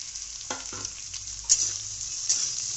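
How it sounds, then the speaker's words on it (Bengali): Potatoes and ridge gourd frying in a pan for jhinge aloo posto, a quiet sizzle with a few soft stirring knocks, no voices. "আলু আর ঝিঙে গুলোকে একটু ভেজে নিতে হবে।"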